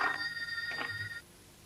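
A telephone rings quietly at home with a brief electronic trill, two short bursts of ringing before it cuts off into near silence.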